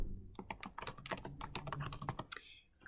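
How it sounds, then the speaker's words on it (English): Rapid, close computer keyboard typing as a password is entered while creating a Windows Server 2019 virtual machine in Azure, a dense run of clicky keystrokes for about two seconds ending in a final tap. "Typing in a password."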